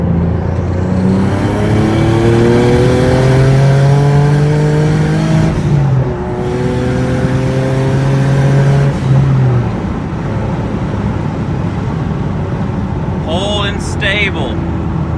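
Turbocharged Genesis Coupe 3.8 accelerating under boost on a city street, a loud engine note rising steadily through the gears with shifts, close and continuous, ending in a brief turbo whistle or flutter.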